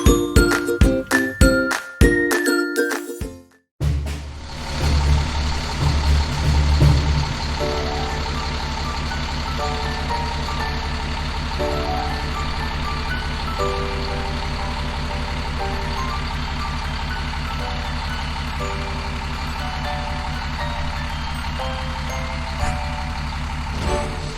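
A fire truck arriving on location idles with a steady low engine rumble while a series of regular electronic reversing beeps repeats over it, after a brief burst of chiming tones at the start.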